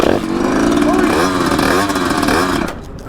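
A gas-powered Surron-style dirt bike engine revs hard at full throttle on a bridge, a loud buzzing drone that climbs and wavers in pitch and stays close throughout, with speech mixed in.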